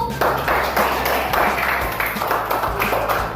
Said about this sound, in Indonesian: tepuk tangan untuk kelompok satu.